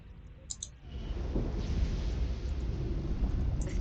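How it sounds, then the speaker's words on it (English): A worsening thunderstorm in the sci-fi video game Resurgence: a low rolling rumble of thunder swells and holds over a hiss of rain, with a few faint clicks at the start. "The storm is getting worse."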